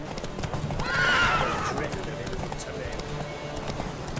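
Horse hooves clip-clop at a gallop during a Witcher 3 video game horse race, with a loud whinny standing out near the start, while voices talk over the steady hoofbeats.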